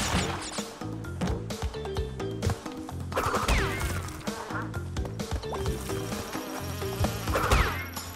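Swarming bees buzz in Crash Bandicoot N-Sane Trilogy, a continuous insect whine running under busy game music with thumps and pickup chimes.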